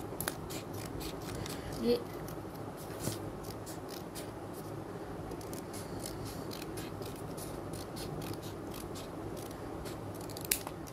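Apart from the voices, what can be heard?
scissors cutting out a paper petal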